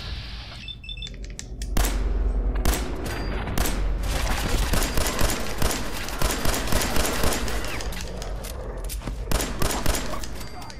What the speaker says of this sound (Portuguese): Esta pistola não faz muito dano, mas tem uma cadência de tiro muito grande.